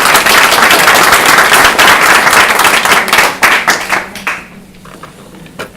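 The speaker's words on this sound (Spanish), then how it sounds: "Así que les pido un aplauso para el doctor." Conference audience applauding to welcome a doctor onstage, a loud dense burst of clapping that thins into scattered claps and fades out near the end.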